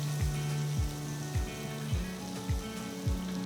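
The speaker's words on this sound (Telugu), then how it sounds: "నెక్స్ట్ ఒక ప్యాన్లో 50 గ్రాములు అన్సాల్టెడ్ బటర్ని వేస్తున్నాను" Fifty grams of unsalted butter melts in a pan with a steady, soft sizzle and hiss, while a repeating descending tone sweeps down roughly every half second on top.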